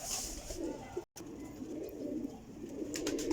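A golden pigeon in a loft of flying pigeons coos softly and repeatedly over steady background noise, with faint chirps from other birds nearby.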